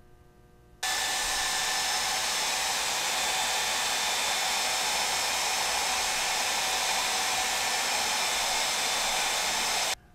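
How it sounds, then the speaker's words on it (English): A hair dryer runs continuously, drying liquid masking fluid on a watercolor painting; a loud, steady airy whoosh starts abruptly after a second of quiet and cuts off near the end. "I'm going to dry this with a"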